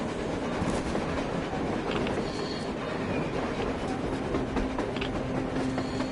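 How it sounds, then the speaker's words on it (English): In the video game Metro Exodus, a train rolls across the surface with a continuous rumbling clatter of wheels on rails and faint metallic squeals, moderately distant and steady, no talk. "A train! A damn train on the surface!"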